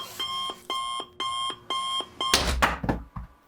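A beeping alarm clock sounds in repeated short bursts of a bright electronic tone, evenly spaced and fairly close, before a burst of noisy commotion cuts in near the end.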